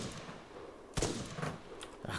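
Gunshots in the video game Arma 3 Altis Life: one sharp, loud crack followed by a couple of fainter shots a moment later, with no talk over them.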